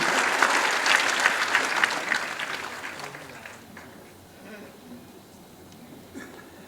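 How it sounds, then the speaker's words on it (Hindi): An audience claps at a National Handloom Day public event in India: a burst of loud, dense applause lasts a few seconds, then fades to scattered clapping and quiet crowd noise. "आप सबकी जोरदार तालियों के प्रणाम के साथ"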